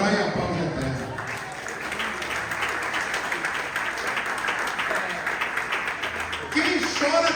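Congregation applauding during a family church service, a steady mid-level wash of clapping that runs throughout, with a voice speaking over it and the clapping swelling louder near the end.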